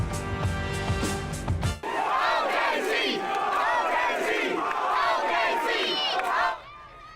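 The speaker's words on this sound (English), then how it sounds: "Fans packed in at Will Rogers to give him an Oklahoma welcome" Large crowd of Thunder fans at Will Rogers in Oklahoma City loudly cheering and whooping to welcome Carmelo Anthony, a sustained roar of shouts and yells following a brief musical intro, then cutting off near the end.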